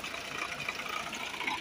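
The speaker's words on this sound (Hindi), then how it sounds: "ट्रैक्टर में हवा भर रहा है।" An improvised air pump rigged on a Belarus tractor fills air with a steady, close, broadband rushing hiss over a low engine rumble, constant and unbroken with no talking.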